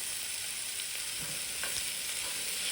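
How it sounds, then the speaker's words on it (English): Onions and garlic sizzle in hot fat in a pan, a steady close crackling hiss with faint scrapes as they are stirred, no voices. "I'm going to add my onions and garlic and go ahead and stir that in"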